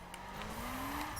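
A car drifts around a race track, tires squealing in a long sustained screech over a steady engine drone, heard from a moderate distance with no talking.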